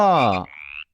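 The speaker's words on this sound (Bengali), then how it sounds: "ব্যাং" One short, loud croak of a frog, harmonic and close, followed by a thinner trailing squeak before it cuts off.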